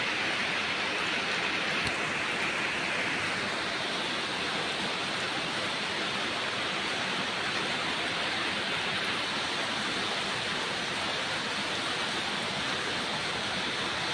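Rain falls steadily as a dense, unbroken hiss that stays at constant loudness throughout, with no voices.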